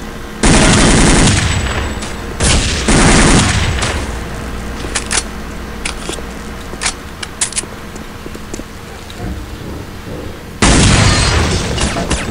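Pistol gunfire in the video game Counter-Strike: Condition Zero: loud, close shots crack in quick pairs, then a scatter of fainter, distant rapid shots, before another heavy burst of fire at the end.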